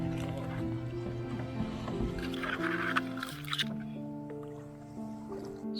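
A canoe moves slowly along a narrow swamp forest stream in America, with soft paddle drips and wet squishing splashes close by, set against faint sustained tonal sounds in the background.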